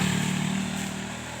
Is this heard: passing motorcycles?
yes